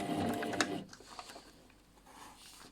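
Sewing machine stitching through the layered lining of a washbag, a loud steady mechanical run for about the first second, then quieter intermittent whirring and faint handling noises.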